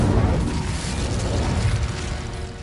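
An Incendio fire spell cast in Hogwarts Legacy, heard as a dense, rumbling burst of flame with crackling texture that roars continuously for a couple of seconds.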